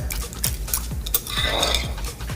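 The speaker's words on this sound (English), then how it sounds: "So I have 2 tablespoons of sugar, and then we just give it a little stir." Sugar being stirred into a yeast mixture for challah dough, a run of close scraping and light clinking strokes of a utensil against a bowl at an even pace, with no talk.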